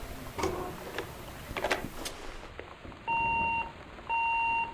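Two steady electronic beeps in the video game Gone Home, each about half a second long, sound one second apart after a stretch of scattered clicks and background noise.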